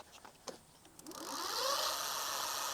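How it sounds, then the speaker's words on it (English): A few faint clicks, then an e-bike hub motor spins the wheel up into a steady high whine that holds, quiet and close, with no voices. "let's do some wheel spinning action right here. Let's see how loud the motor can be."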